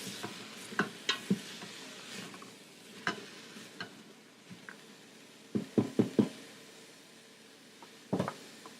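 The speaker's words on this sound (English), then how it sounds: "Just want to saute this a little bit to give some of that nice flavor of the garlic and the onions to the potatoes and carrots" Potatoes, carrots, garlic, onions and tomato are stirred in a pan, with a string of close, sharp spoon knocks and scrapes in irregular clusters over a quiet background and no talking.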